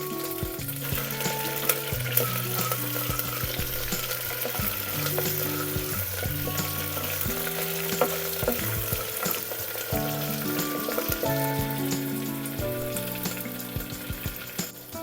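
Steady oily sizzling of tempering frying in a clay pot for mutton curry, continuous and close, with occasional stirring scrapes throughout.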